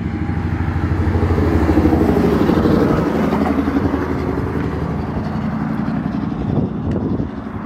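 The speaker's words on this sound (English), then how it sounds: "Look how loud this truck is." A heavy truck engine roars loudly nearby on the Sidney Lanier Bridge in Brunswick, Georgia, swelling as the truck passes and then easing off as it moves away.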